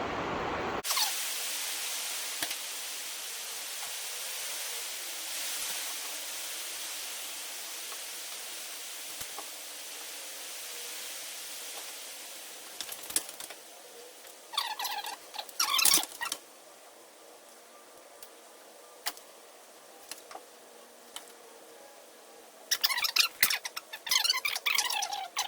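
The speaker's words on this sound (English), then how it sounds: "One of the fun things of the metal building is you definitely know the second it starts raining." Rain falls on the metal building of a van workshop as a steady, soft hiss of patter. Sharper scattered taps and bursts of clatter are heard now and then, and no one is speaking.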